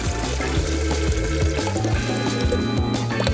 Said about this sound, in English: If I just add some milk to the pan.